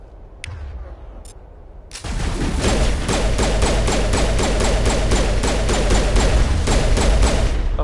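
Rapid automatic gunfire from a Marksman pistol in Mass Effect, a couple of isolated shots and then a loud, steady burst of dense repeated fire that continues to the end.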